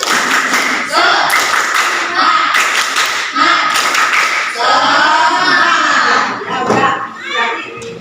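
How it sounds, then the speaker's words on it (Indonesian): Classroom of students clapping a rhythmic spirit cheer together, bursts of claps in patterned groups with children's voices and crowd noise mixed through, close and loud in a room. "Satu lagi tepuk semangat."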